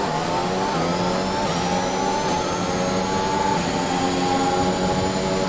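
A Formula 1 race car engine in F1 2021 on the Hungary circuit drones loud and steady as the car brakes into turn 1, a continuous high whine with shifting pitch and no pauses.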